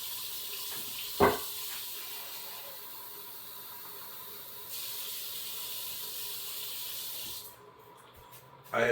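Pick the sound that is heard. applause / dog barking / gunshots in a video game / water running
water running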